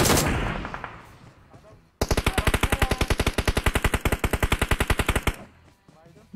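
Automatic gunfire in PUBG Mobile: after a noisy opening, a long, evenly spaced burst of sharp, loud shots fires at a rapid, steady rhythm for over three seconds, then stops abruptly.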